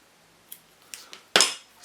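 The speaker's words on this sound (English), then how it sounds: "Get a little pair of scissors and just crop off the excess" Small pair of scissors snipping off the excess end of leadcore fishing line: a few faint ticks, then one sharp, close cut with a bright metallic snap, alone without talk.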